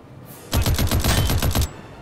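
A loud, close burst of rapid automatic fire from the World War II game Classified: France '44, with roughly eight shots in quick succession lasting just over a second and silence on either side.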